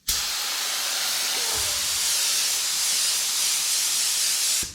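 Paint spray gun spraying SPI epoxy primer onto the firewall of a '55 Chevy, a loud, steady, broad hiss running close and continuous for a few seconds before stopping.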